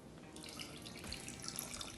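Water pours into a saucepan with sugar while making cranberry sauce, a faint, steady trickling splash that runs quietly without a break.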